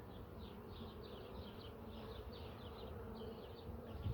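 Honey bees buzzing in a hive, a soft, faint, continuous hum with small fluctuations and no voices.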